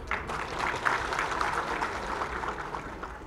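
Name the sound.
applause for the chief minister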